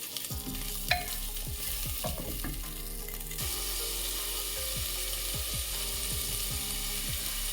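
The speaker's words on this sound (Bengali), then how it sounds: "আর এটাকে আরও 1 মিনিট মতো ফ্রাই করব" Chopped ginger fries in an oil-filled pan, giving a steady bright sizzle while a spatula scrapes and clacks against the metal in repeated stirring strokes, close and continuous.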